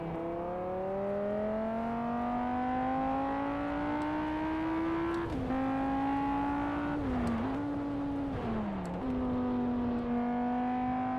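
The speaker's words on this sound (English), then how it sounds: "I'm just absolutely loving driving my Gallardo" A Lamborghini Gallardo engine drives in the racing game Test Drive Unlimited, a smooth steady drone rising slowly in pitch, interrupted by a few quick dips and shifts before settling back into a constant hum.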